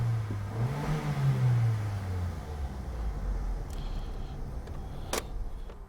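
An Opel Astra engine rises in a brief rev as the car sets off on a test drive, then settles into a steady low cabin drone with a couple of faint clicks.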